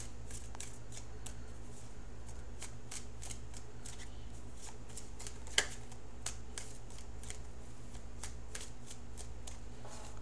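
Tarot cards are shuffled and drawn by hand in a quiet room. Crisp, quick card flicks and riffles repeat close up at a soft level, with one sharper snap partway through.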